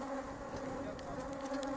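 Agitated honeybees swarm around an open hive during beekeeping work, a dense, steady buzzing drone close by with individual bees whining past.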